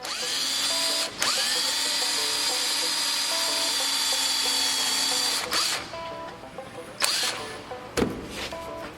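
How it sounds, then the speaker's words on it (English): A power drill with a larger bit boring out old conduit on a fire-damaged John Deere, a loud steady close whine that stops briefly, then runs again in short bursts before cutting off. "get a little bit bigger drill bit and I'll drill that out"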